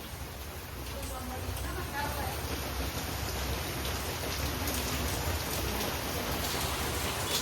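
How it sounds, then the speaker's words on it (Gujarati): Steady rain falls outside a home, a dense continuous hiss of drops on surfaces that never lets up across the whole stretch, with faint voices murmuring underneath. "બહાર તો વરસાદ બંધ થવા નામ દેતો"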